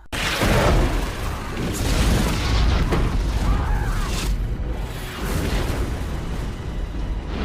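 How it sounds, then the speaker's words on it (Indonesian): Bombs exploding in a civil war film scene, a continuous heavy rumbling barrage of booms and blasts with loud low-end roar filling the whole stretch, no talk over it. "Lantas dihujamlah para pemberontak itu dengan bom"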